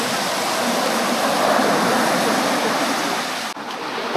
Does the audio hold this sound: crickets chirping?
no